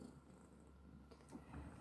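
A house cat purrs close by: a low, continuous rumble held quietly and evenly, ending with a small bump of handling noise.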